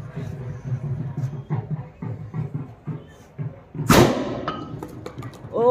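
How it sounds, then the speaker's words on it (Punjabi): A firecracker set off outdoors during a village celebration in Punjab pops once with a sharp, loud bang partway through, while people talk before and after it. "ਚਲਾਉਣ ਲੱਗਿਆ ਪਟਾਕਾ"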